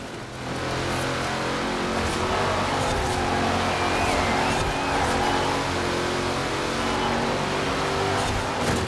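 Race car engine roaring continuously during a Forza Horizon 4 race in the Hot Wheels Twin Mill, loud and sustained with shifting revs and tire and road noise.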